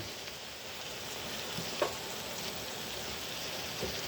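Shredded cabbage fries for pancit bihon with a steady low hiss, broken by a brief louder scrape of stirring near the middle of the clip; no voices.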